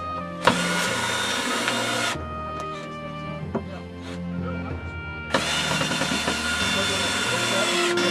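Battery-powered drill driving screws through plywood into 2x4s for cave bracing, two long loud whirring bursts with a quieter gap between them, plus some clicks and knocks.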